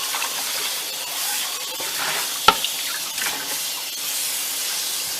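Tap water runs steadily over celery in a kitchen sink, a constant hiss of splashing water with one sharp knock midway and no talking.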